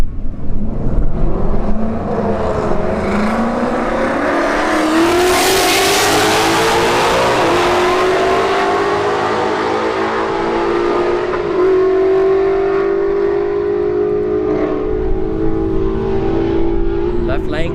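A Ford Mustang S197 and an S550 drag race at a street-heat event at a motorsports park, engines roaring loud and close as they rev and climb, with a rising whine and crowd and announcer noise beneath.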